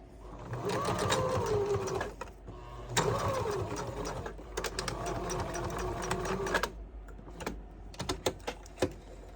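Sewing machine stitching a strap onto garment fabric in bursts of rapid mechanical clatter, running forward and back with brief pauses, then a few quieter taps and clicks near the end.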